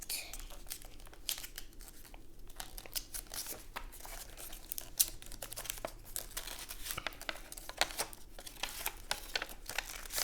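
Paper being folded into a paper airplane, with steady crinkling and rustling creases close by, soft and continuous throughout.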